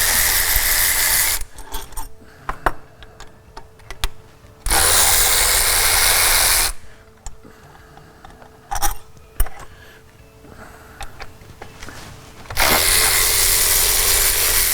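Power tool or ratchet working 10 mm bolts loose from an intake manifold on a 2001 vehicle, three loud sustained whirring bursts separated by quieter clinks and handling noise up close.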